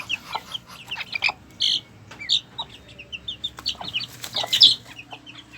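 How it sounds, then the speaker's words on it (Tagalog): Newly hatched chicks on a small backyard chicken farm give repeated high peeping chirps near the listener, with soft clucking from adult hens mixed in over quiet surroundings. "tatlo lang natira sa mga sisiw na pinapisa natin na bago"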